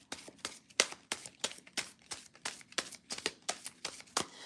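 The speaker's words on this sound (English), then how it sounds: "I'm going to shuffle that only because I don't feel good about that." Tarot cards shuffled by hand in a steady run of crisp riffles and flicks, about a dozen sharp papery bursts close to the mic with no talking.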